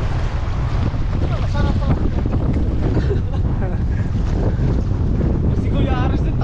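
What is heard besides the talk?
strong waves and wind around a small boat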